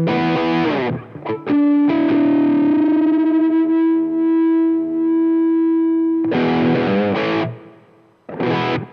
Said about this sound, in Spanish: tengo el módulo de distorsión, que pues la verdad suena bastante bien crunchy